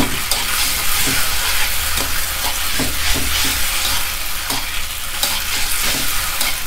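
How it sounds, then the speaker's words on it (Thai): Noodles for Hong Kong-style rad na with marinated pork sizzling and being tossed in a wok over high heat, with continuous loud frying hiss and repeated scraping strokes of a spatula, close up. "คั่วเส้นให้เขาหอมๆนะครับ"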